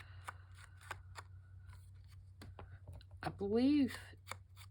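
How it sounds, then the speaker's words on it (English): Scissors fussy cutting a printed paper image of a woman from a Whistler painting, giving a run of small close snips and clicks under quiet talking, with a brief murmured voice near the end. "I'm going to ink around her, and I just fussy cut her out"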